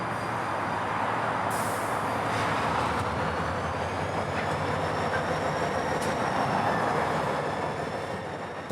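Florida East Coast Railway freight train rolling steadily past on the north end line, a continuous loud rumble of wheels and cars with faint rail squeal, no voices.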